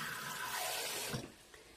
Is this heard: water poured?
yes